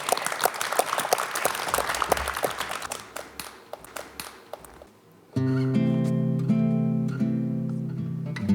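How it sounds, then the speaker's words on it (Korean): Gentle audience applause in a broadcast studio, many hands clapping for about five seconds and fading out, then soft music rising alone. "저희가 잔잔한 박수로 청해 듣도록 하겠습니다."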